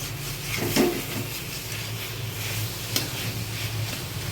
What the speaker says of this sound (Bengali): ভাজা হচ্ছে, অনেকটা ভাজা হয়ে গেছে, আরও ভাজা হবে, তারপর তেলটা ছাড়বে